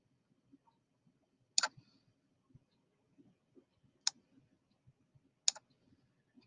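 Three sharp, sparse clicks of a computer mouse, spaced a couple of seconds apart, heard near and fairly quiet over a soft background while working in Excel.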